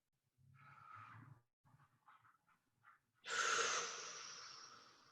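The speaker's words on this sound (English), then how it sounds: "when you breathe in, think about trying to keep that core activated" Breathing during a core exercise class on a mat: a few soft nasal breaths and snorts, then one long, loud, airy inhale that swells and slowly fades, close to the microphone with no talking.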